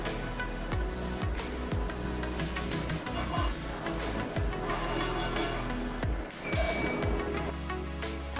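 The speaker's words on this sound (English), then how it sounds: "after the machine has pulled the test strip until it breaks" A tensile testing machine pulls a plastic bag test strip. Its motor gives a steady mechanical whirring with repeated sweeping tones and ticking, moderately quiet and close, with no voices.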